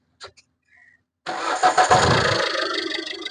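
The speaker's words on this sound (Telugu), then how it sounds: "సింగిల్ సెల్ఫ్ లో బండి స్టార్ట్ అవుతుంది." A 2016 Maruti S-Cross Delta 1.6 fires up on a single crank after a brief moment of quiet, then settles into a loud, close, steady idle.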